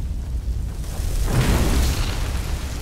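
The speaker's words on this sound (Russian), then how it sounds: "оно взрывалось только когда мы приближались" A dull, rumbling explosion swells up out of a steady low roar in Skyrim, peaking briefly before settling back into the hiss, like a muffled game explosion.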